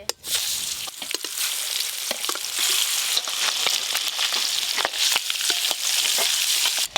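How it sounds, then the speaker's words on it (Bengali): Chicken kosha frying in a pan makes a dense, close sizzle with frequent sharp pops and spatula taps throughout, loud and steady with no talking. "এই তো কষা হয়ে গেল চিকেন"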